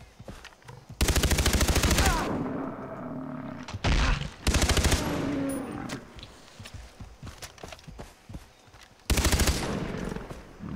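A gun firing in the video game Far Cry 3 in loud bursts of rapid automatic fire, with three long bursts and a short one, separated by quieter stretches of game ambience and rumbling.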